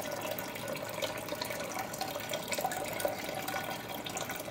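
Wort drips and trickles steadily from a lifted mesh brew bag of malt grain into the pot during an English porter brew day, a close, continuous watery patter with no talking.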